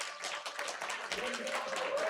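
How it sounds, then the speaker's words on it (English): At a banquet, an audience claps in steady, fairly quiet applause that carries through the whole moment, with no voices rising above it. "please clap your hands"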